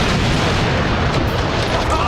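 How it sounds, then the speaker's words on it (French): A massive blast from 200 charges of binary explosive detonating inside a car trunk, a loud sustained broadband roar with heavy low rumble filling the whole stretch, with some voices faintly mixed in. "Cette explosion était énorme!"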